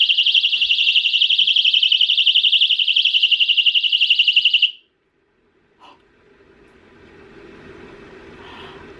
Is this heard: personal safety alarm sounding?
yes